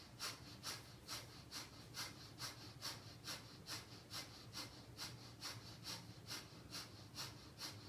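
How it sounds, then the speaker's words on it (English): Rapid rhythmic breath-of-fire breathing during a kundalini yoga stretch pose, a steady train of about two quick, airy nasal puffs per second, close and quiet, continuing evenly without talk. "begin breath of fire"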